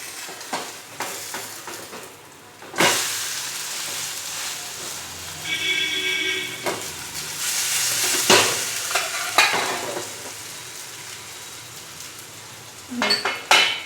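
Gujarati handvo, a savory vegetable-filled cake, sizzling and frying in a pan after being flipped, with spatula scrapes and clinks of utensils against the pan over a steady crackle.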